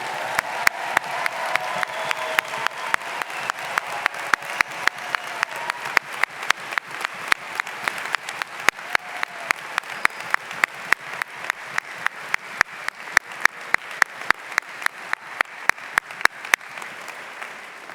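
Graduation ceremony crowd at Harriton High School giving a long, sustained round of applause, dense clapping from many hands with occasional sharper close claps, steady throughout and then gradually thinning.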